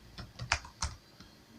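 Quiet typing on a computer keyboard, a handful of separate key taps in an uneven rhythm, close and soft, with no voices.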